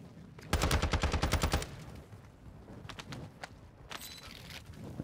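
Rifle fire in Warzone 2, a rapid close burst of about ten shots, followed by a few scattered single shots and distant game sounds.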